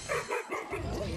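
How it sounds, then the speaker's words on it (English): Dog barking inside the video game Fortnite, several quick yappy barks in a short burst, fairly faint and mixed with game sounds. "Y'all hear that fucking dog barking?"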